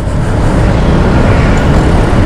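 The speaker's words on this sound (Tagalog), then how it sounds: "So, traffic na. Naabutan na tayo ng traffic," Dense road traffic near Pasig Palengke in Pasig, Philippines: a steady, loud rumble of cars, buses and trucks with no gaps and no one talking.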